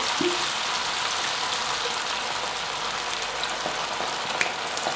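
Wine and port wine reducing in a hot pan for a chicken liver mousse, giving a steady, dense sizzle and bubbling hiss that lasts the whole time at an even level.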